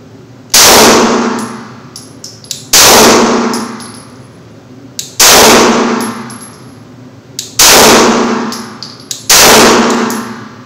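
Gunfire rings steel targets during a durability test of a Trijicon RMR RM07 optic: five loud, evenly spaced shots, each a sharp crack followed by a bright metallic clang that rings and decays for about a second.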